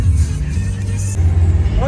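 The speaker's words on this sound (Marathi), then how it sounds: "पोलीसची गाडी" A police car drives along a snowy road between Srinagar and Jammu, its engine a steady low rumble close by, with people talking over it throughout.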